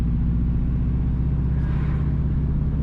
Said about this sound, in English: Currently, we are driving south from Wire Fence towards Allsides.